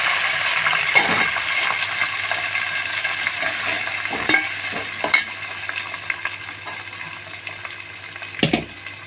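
Curry leaves and onions frying in a pan for a fish curry, a steady crackling sizzle with a few sharper pops and spatters, close and moderately loud, no voices.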